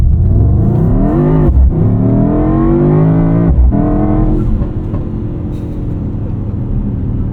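Engine of a 2024 AMG GT 63 S E Performance 4-Door heard from the cabin, a loud, sustained rev that climbs in pitch through gear shifts, then settles into a steady drone; no talking.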